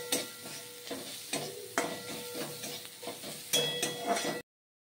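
Crushed garlic and chopped green chilli fry in oil, sizzling steadily while a spatula scrapes and stirs in repeated strokes, close and moderately loud, ending abruptly in silence.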